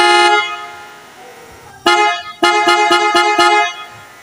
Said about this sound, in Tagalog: PIAA bass horn installation.